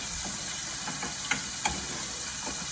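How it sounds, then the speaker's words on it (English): Chopped onion sautéing in a pan for shrimp spaghetti Roma style, a steady close sizzle with a few sharp clicks of a stirring utensil scattered through it. "Sauteing up our onion."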